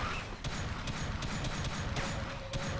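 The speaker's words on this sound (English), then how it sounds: "I'll just stand back and watch the bullets fly." Gunfire in Alien Swarm, rapid automatic bursts rattling continuously at a low, muffled level across the whole stretch.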